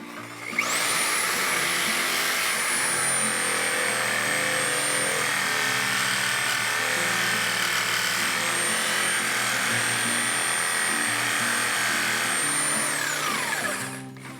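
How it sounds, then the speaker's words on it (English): Power tool cutting through frame bolts on a 1975 Ford truck, one continuous loud high-pitched whine with a grinding rasp that holds steady for over twelve seconds before winding down, close and with no talking. "Let's just cut the bolts in the frame."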